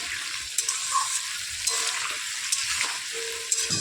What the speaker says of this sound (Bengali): নাড়াচাড়া করে এবার আমি আলুগুলোকে ভেজে নেব।